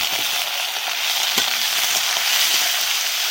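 Shredded banana stem coated in salt and turmeric sizzles in hot oil while a spatula stirs it, producing a dense, close frying hiss with a few soft scrapes and no talking.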